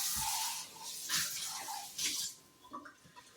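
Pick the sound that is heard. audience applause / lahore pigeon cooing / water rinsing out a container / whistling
water rinsing out a container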